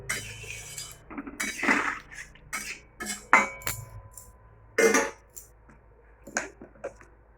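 Paneer stirred with a little water in a pan, a utensil giving intermittent clinks and scrapes against the metal in uneven bursts, close and fairly clear, with no voices.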